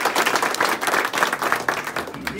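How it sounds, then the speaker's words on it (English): Applause from a crowd at an election campaign kickoff, moderately close and continuous, with faint crowd voices mixed in. "Louis Pappas and Pappas Investments, so let's give them a round of applause."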